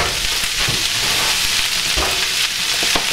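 Cabbage sautés in bacon fat in a pan, a steady loud sizzle with occasional stirring scrapes throughout.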